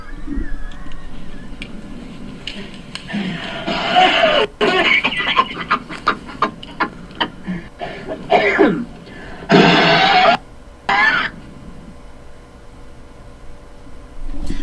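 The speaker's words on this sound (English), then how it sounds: "sounds like coughing or wheezing" Repeated coughing and raspy, wheezing breaths, some bursts short and sharp, others drawn out and strained, fairly loud and close with no talking.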